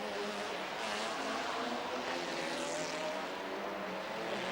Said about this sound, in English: Atmospheric engine, no turbochargers to restrict the open exhausts. Absolutely beautiful sound, made even better, of course, by bouncing off these high buildings in the port of Helsinki.